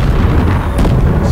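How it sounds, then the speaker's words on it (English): Warship engines explode in Halo Infinite with a loud, booming rumble that sustains heavily throughout, punctuated by a sharper burst partway through amid crackling debris. "Explosions occur."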